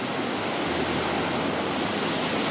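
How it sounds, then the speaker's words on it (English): Heavy rain pours down in a dense, constant hiss with a low rumbling undertone, loud and uninterrupted from start to finish. "The rain got heavier and I just sat there watching it pour."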